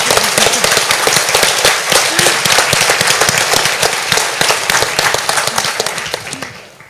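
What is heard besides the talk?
audience applause for Kristin Halvorsen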